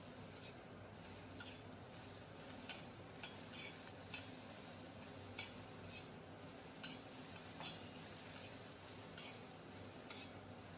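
Onions and green chillies roasting in a pan, a faint, continuous crackle with light scraping ticks throughout.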